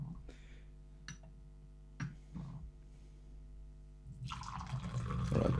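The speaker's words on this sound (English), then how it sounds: "pouring in steep number 3 now" Water is poured onto fermented Anhua hei cha tea leaves for a third steep, a soft trickle building into a steady pour after a few faint clinks and drips, close by and fairly quiet.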